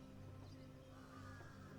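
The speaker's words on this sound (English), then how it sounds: "Some birds." Ambient birdsong in the video game Heaven's Vault, including crow-like caws, plays faintly over a soft, steady background bed.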